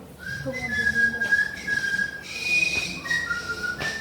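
A person whistles a melodic tune with the mouth, with clear sustained pitched notes that rise and fall in short phrases, alone and fairly close.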